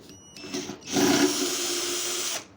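A power drill unscrewing a deep-set screw from the tank cover of a Mondial MG100 motorcycle, giving one steady whirring run of about a second and a half after a brief start, loud and close, with no talk.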